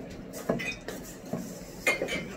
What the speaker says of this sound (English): so now I'm going to mix these up just so that they're evenly combined